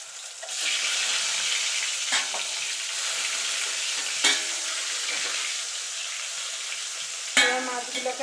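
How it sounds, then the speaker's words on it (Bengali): Pieces of boal fish fry in oil over a low gas flame. A steady, even sizzle runs throughout with a few sharper spatters and stirring clicks, and no one speaks. "এবার মাছগুলোকে আমি এপিট ওপিট করে লাল লাল করে ভেজে নেব।"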